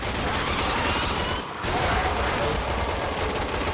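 Continuous rapid gunfire from Warframe, a dense, loud, unbroken stream of automatic shots with a brief dip in the middle before resuming at full intensity.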